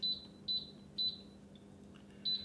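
Beeps from a Ball Easy Canner and multicooker control panel as the timer is set, four short, clear high-pitched beeps in a steady rhythm with a faint beep between them, heard alone over a quiet low hum.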